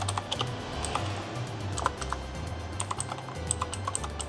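Keys on a budget gaming mechanical keyboard with per-key lighting clatter in quick irregular bursts of crisp clicks, close and steady, with no talking over them.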